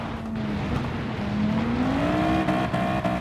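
A car engine in Gran Turismo 7 racing on a dirt track revs steadily, its pitch climbing as it accelerates, loud and continuous with a brief tire-squeal edge.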